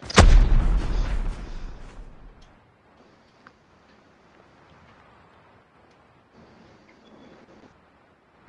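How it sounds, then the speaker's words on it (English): Gunfire in the Call of Duty Mobile video game opens with a loud burst of shots and a booming blast that fades over two seconds, leaving faint scattered ticks and a sharp hit at the end. "Oh, they're shooting the Theo."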